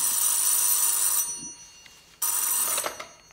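A telephone rings in two loud, close electronic bursts separated by a short pause, with no talk over it.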